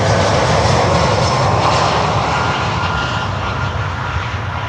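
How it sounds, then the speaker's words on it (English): A military Airbus A400 turboprop climbs out from runway 8, its engines a loud, steady broadband roar with a continuous droning hum that holds strong throughout, close by and alone. "An A400 climbing out here on runway 8."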